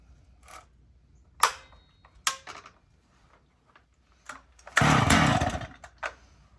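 A chainsaw is cold-started with the choke fully down and no primer. Sharp pull-cord yanks sound at uneven intervals, and one brief, rough sputter follows, close and fairly loud.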